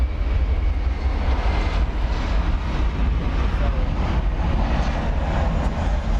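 An American Airlines Boeing 777 rumbles at night at DFW Airport, a steady, loud, low engine roar that persists throughout without clear speech.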